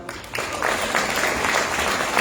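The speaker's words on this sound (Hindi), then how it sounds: "ताली बजा लो।" An audience claps in a hotel seminar hall, a steady wash of applause that swells slightly and holds for a couple of seconds, filling the room.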